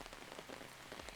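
Steady rain falling and pattering on surfaces outdoors, a dense even hiss heard alone at moderate loudness.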